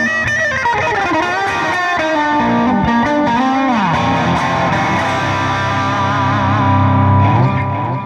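An electric guitar with a humbucker pickup plays through the Overloud TH3 amp simulator, giving a loud, distorted tone with chorus and echo effects as notes and bends ring on without pause.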